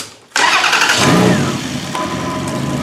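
A stripped-down demolition derby car cranks and fires up, catching abruptly and settling into a loud, rough idle close by.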